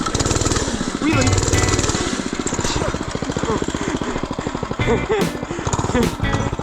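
A budget mini bike's small engine buzzes steadily while being ridden and popped into a low, slow wheelie, a continuous rattly drone with slight revving swells, heard close with a voice talking over it.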